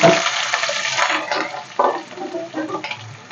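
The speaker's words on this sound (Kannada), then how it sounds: "ಇವಾಗ ಎರಡು ಈರುಳ್ಳಿ ದಪ್ಪ ಸಣ್ಣ ಸಣ್ಣ ಕಚ್ಚಿಕೊಂಡಿದ್ದೀನಿ ಅದು ಹಾಕ್ತಾಯಿದ್ದೀನಿ" Two coarsely chopped onions drop into hot oil for soybean biryani, giving a loud, close, crackling sizzle that keeps sputtering and popping throughout with no talking.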